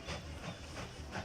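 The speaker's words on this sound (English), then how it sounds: "We are here riding along our train back over to Telford." Train rolling along a track in the railway-building game Mashinky, a soft, steady rumble with faint rhythmic clatter and hiss, quiet and continuous with no voices.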